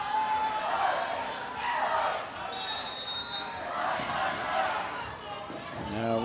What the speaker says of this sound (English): Crowd still cheering for Hashimoto